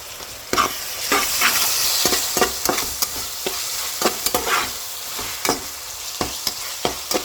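Veg hakka noodles frying in a pan with red and green chilli sauce and vinegar, a steady close sizzle broken by repeated sharp scraping stirs at an uneven rhythm, with no voices.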